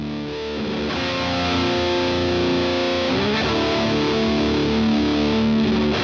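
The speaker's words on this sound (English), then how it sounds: "The V8 tube distortion is a high-gain powerhouse" A Vox V8 high-gain tube distortion pedal with a mid-shift switch, played through guitar as a thick, sustained, saturated chord tone that holds steady and loud throughout with no talking.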